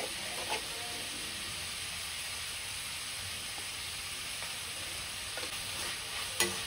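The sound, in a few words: frying ingredients in a pan for Uttar Karnataka susla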